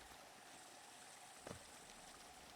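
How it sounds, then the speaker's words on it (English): An acidic waterfall in the video game Hollow Knight makes a faint, continuous rushing wash of water, with a brief soft thump near the middle and no voices. "Sounds like a waterfall."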